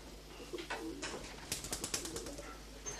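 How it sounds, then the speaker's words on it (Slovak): Pigeons in a Slovak apartment setting make soft, repeated cooing calls mixed with some wing flutters and scattered taps. The sounds are mid-distance and fairly quiet against a steady low hum. "Mrňo, holuby musia preč."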